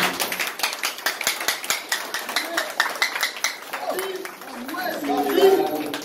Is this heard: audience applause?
yes